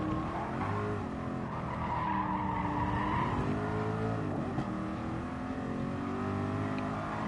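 Race car engine in Gran Turismo Sport, droning steadily with shifting revs as the driver drops gears through corners, tire squeal and skidding mixed in, loud and continuous with no talking.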